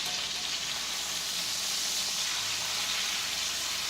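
Lamb chops searing in a hot pan give off a steady, close sizzling hiss that holds at an even level from start to finish, with no voices over it.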